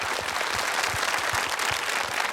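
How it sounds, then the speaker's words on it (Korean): A television studio audience claps for a military-themed KBS variety show, a dense, even applause at moderate loudness lasting a couple of seconds with no speech over it. "박수 한번 보내주세요"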